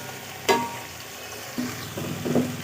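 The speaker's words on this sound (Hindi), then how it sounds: "तो ये देख सकते हैं आप कि हमने इन सब्जियों को फ्राई कर लिया है" Mixed vegetables fry in a pan for pulao, a soft steady sizzle broken by a few stirring scrapes and clatters near the start and end.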